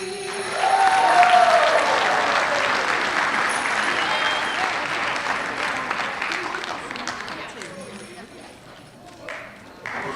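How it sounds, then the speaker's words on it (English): Loud sustained applause from a crowd at a school board meeting for carolers, dense clapping that gradually tapers off toward the end. "If we can just give them one more round of applause."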